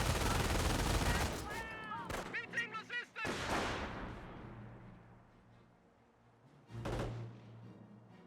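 An M242 autocannon in Company of Heroes fires a heavy rattling burst, and impacts and a distant boom follow. The sound fades into a low rumble, then another loud blast hits near the end.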